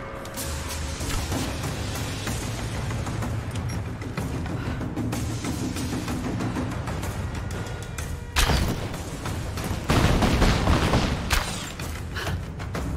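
Gunfire and booming explosions in Rise of the Tomb Raider, a dense, loud, continuous barrage with heavy thuds and sharper bursts near the end, no talking.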